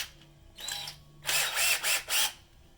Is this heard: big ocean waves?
no